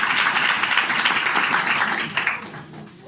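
Congregation clapping at a Christian sermon on fasting, dense sustained applause filling most of the clip before tapering off in the last second.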